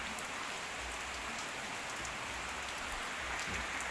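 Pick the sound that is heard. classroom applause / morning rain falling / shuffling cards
morning rain falling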